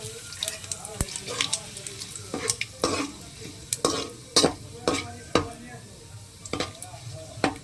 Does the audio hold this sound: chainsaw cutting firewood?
no